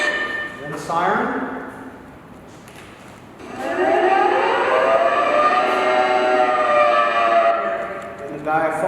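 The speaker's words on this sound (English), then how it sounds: "Yeah, air raid siren." An air raid siren used as a lighthouse fog signal at Piedras Blancas rises in pitch, holds a loud sustained howl, then winds down; a brief rising tone precedes it.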